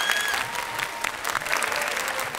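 A studio audience on a Ramazan game show claps enthusiastically during a makeup segment, a thick sustained burst of many hands with a faint host voice and a brief tone mixed underneath.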